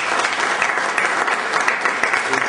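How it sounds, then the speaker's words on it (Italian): Loud, dense applause from a seminar audience on housing and sick building syndrome, a continuous wash of many hands clapping at once. "a cui va anche lui un grande applauso"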